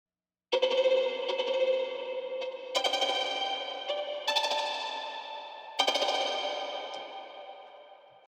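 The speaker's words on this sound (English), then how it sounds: "it's someone playing and dropping the bow onto the strings and it bouncing" Bright plucked-bounce string tones in a few separate bursts, each ringing out into a long, spacious reverb tail; solo and fairly distant.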